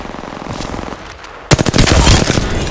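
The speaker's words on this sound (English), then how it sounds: "Being shot at." Apex Legends gunfire: a quieter stretch of rapid shots gives way to a loud, dense automatic burst, close and continuous to the end.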